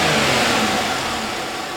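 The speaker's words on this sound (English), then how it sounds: "Now we're going to accelerate it a little bit and see what happens as we rev the engine." A car engine revs up as the accelerator is pressed during fault diagnosis with a scan tool, a loud, close, sustained mid-pitched roar that climbs and then eases slightly across the short burst.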